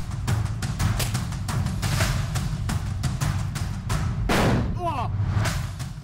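A strikeball training grenade bursts inside a small room, a single sharp broadband blast at mid-clip with a brief ringing tail, surrounded by steady background noise and shuffling.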